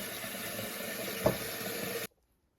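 Water runs steadily into a container to be heated, a close hiss with one small splash, then stops abruptly into silence.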